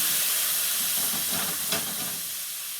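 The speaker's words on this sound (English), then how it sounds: "we're going to take the wine, and the wine deglazes." Wine hitting a hot pan with browned fond from chicken piccata, giving a steady broad hiss and sizzle that swells slightly partway through, close and continuous with no talking.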